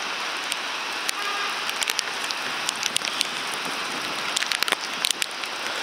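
Pouring rain beats down across Washington Heights in the Bronx during a heavy storm, an even broadband wash of close drops with brief crackling spatters standing out, steady in level and free of speech.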